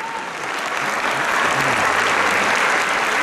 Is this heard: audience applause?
yes